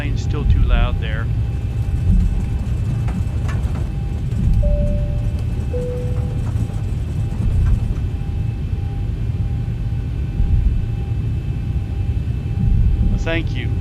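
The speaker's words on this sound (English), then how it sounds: "let me know if the plane's still too loud there" Boeing 737 engines in the X-Plane 12 flight simulator drone as a steady, dense low roar throughout, with a few faint tones and chirps over the top.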